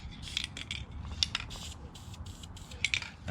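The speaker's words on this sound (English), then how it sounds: "So on this, I'm just going to spray the corners." Short hissing bursts of aerosol spray adhesive are applied to the carpet corners of a 1994 Chevy van's step wells, several quick close puffs with faint handling clicks between them.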